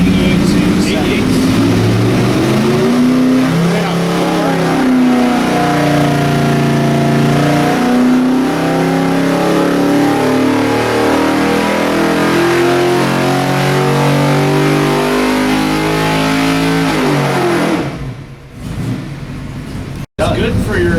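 A 1971 Corvette's LS6 454 big-block V8 roars loud and steady on a dyno, its note climbing through a long pull before cutting off sharply near the end.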